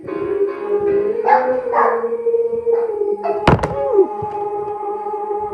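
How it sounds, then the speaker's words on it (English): Dogs in a room in Jamestown make faint, scattered howls and whines under steady background noise, broken by a sharp thump midway. "Now the dogs are accompanying me."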